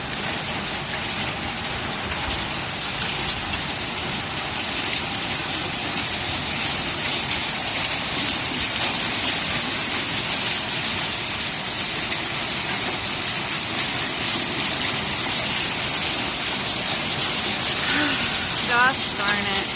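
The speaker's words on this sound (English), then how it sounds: "And it looks like we are starting to hail." Hail and heavy rain in a summer storm fall over a garden with crepe myrtle trees, a dense, steady hiss of drops pattering on surfaces throughout, loud and close, with a faint voice briefly near the end.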